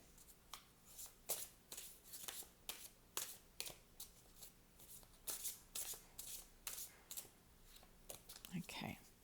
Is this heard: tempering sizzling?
no